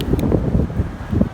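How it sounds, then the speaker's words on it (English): Loud gusty wind roars and buffets the microphone in a low, continuous rumble with no other clear sounds. "Okay, it's super windy now."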